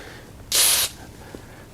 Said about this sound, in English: Spraying it in the pivots